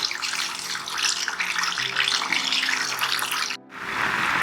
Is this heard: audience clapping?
no